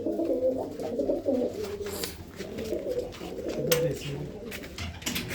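Pigeons cooing in a loft, steady low throaty coos repeating close by, with someone speaking intermittently over them.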